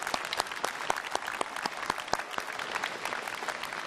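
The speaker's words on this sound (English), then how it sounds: "applause" Steady audience applause at a graduation ceremony, dense and sustained with many hands clapping at once and a few sharper claps standing out, filling the room without talk.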